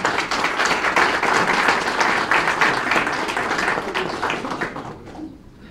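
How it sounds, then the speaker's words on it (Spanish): A large audience at a Tech Camp event bursts into loud, sustained applause welcoming Dr. Luis Ernesto Derbez Bautista; the dense clapping holds steady for several seconds, then thins and fades away at the end. "recibamos con un fuerte aplauso al doctor Luis Ernesto Derbez Bautista"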